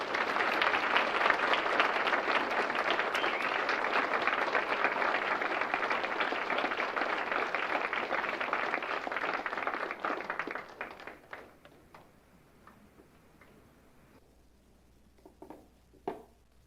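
An audience at a fall college speech showcase claps steadily after a speech, a dense, even wash of applause that fades out after about ten seconds, leaving a few scattered taps and near silence.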